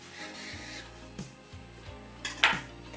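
A knife chops through soft rolled homemade noodle dough against a board in a few quick, light strokes, with a faint clink of utensils near the end.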